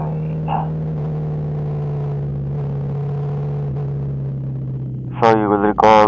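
A Kawasaki Z250SL motorcycle engine idles with a steady low rumble, then revs sharply as the bike rides off, loud and close at the end.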